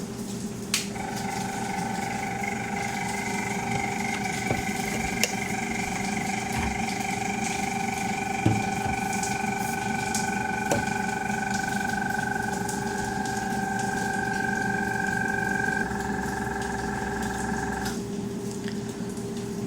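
A spray booth extraction fan and an air pump run together, giving a steady mechanical drone with a high tonal whine. The whine cuts out shortly before the end, and a few faint clicks sound over the hum.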